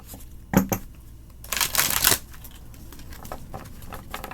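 Tarot cards riffle and snap in a couple of quick bursts, close up, between stretches of quiet handling noise.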